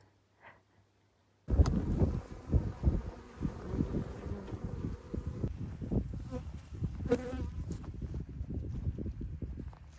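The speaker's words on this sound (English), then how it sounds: "They're so fascinating, these bees," Bees buzz steadily and close by, a dense droning hum with scattered soft knocks and taps throughout.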